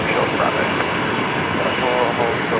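Broadband roar of a Qatar Airways jet taxiing at Brisbane Airport, steady and fairly loud throughout, with a voice talking faintly over it.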